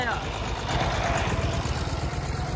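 A tractor engine idles steadily nearby, a continuous low rumbling drone with no change in pace across the short stretch.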